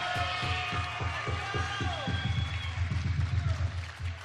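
A crowd at a live volleyball event cheers and claps steadily in a big hall, with rhythmic thumping beats and a rising whistle-like tone, the noise staying loud and dense throughout.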